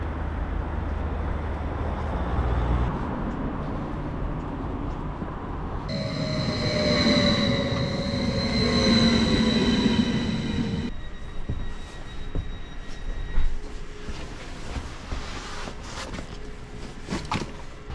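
A train rolls along the rails in Slovakia, heard from on board with a steady rumble, clattering wheels and a high metallic whine that swells in the middle and fades out.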